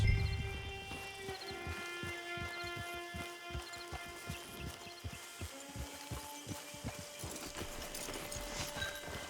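Horse hooves clip-clopping at a steady trot in the Red Dead Redemption 2 video game, a rhythmic run of close hoofbeats over a continuous tonal background.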